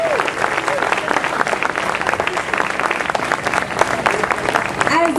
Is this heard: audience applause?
yes